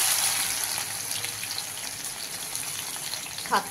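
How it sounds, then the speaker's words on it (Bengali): Crushed garlic goes into hot oil and fries, making a steady, close hiss and sizzle that fades a little over time, with a brief clink near the end. "প্রথমে আমি তেল বসিয়ে দিয়েছি, তেল গরমও হয়ে গেছে। যে রসুন থেতে করে রেখেছিলাম আমি দিয়ে দিচ্ছি প্রথম রসুন"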